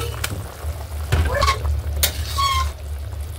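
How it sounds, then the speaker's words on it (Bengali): Pieces of phali fish go into a pot of thin, boiling Bengali fish curry broth with potato stems, bringing a fizzing, bubbling sizzle and a few brief clatters, with no talking. "ঝোলটা উতলে উঠেছে, এখন মাছগুলি দিয়ে দেব।"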